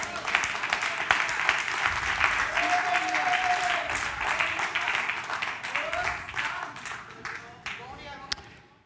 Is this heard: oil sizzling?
no